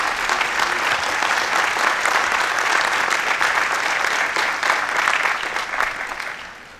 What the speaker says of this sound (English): I'd also ask for a round of applause for our department chairs.